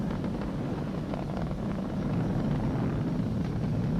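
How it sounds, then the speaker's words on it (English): Falcon 9 rocket in flight approaching maximum dynamic pressure, a continuous low roaring rumble with wind-like noise, steady and unbroken in broadcast sound. "We're throttling down to get ready for the period of maximum dynamic pressure."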